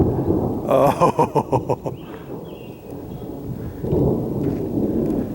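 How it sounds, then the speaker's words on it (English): Thunder rolls in after a lightning flash, a loud rumbling burst with a rapid series of cracking pulses, then fading before a second low rumble; a voice briefly exclaims. "We're going to hear the thunder here in a minute."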